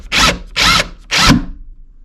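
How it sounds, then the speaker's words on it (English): Power drill driving a 3-inch construction screw through door casing into 2x4 framing, three loud close bursts of motor whine separated by brief pauses, with no voices. "I'm going to sink in one of these 3-inch construction screws."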